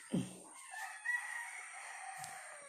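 A rooster crows once, close and clear, with a short clucking note at the start and a faint scratch afterward, in a quiet yard with no talk.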